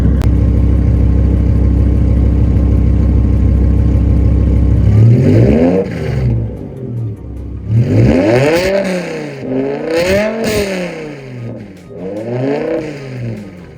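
A BMW E60 M5 engine with an upgraded exhaust idles with a deep, steady rumble, then revs sharply several times, each rise and fall sweeping loud and close.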